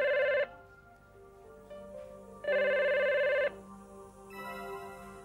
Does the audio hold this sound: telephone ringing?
yes